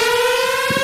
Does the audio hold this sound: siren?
yes